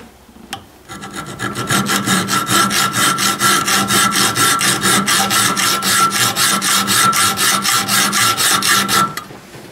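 A hacksaw cuts through a clutch actuator rod on a Ford 2N tractor in quick, steady back-and-forth strokes, a close, raspy metallic rhythm that speeds up and runs for about eight seconds before stopping.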